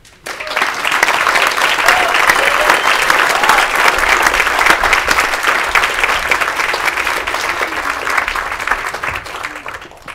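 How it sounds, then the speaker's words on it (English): Audience at a TEDx talk in Johannesburg applauds, sustained dense clapping that rises quickly, holds steady and loud for several seconds, then fades out. "Can I make a special request that we applaud her patience and her power again?"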